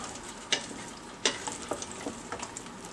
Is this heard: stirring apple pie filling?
yes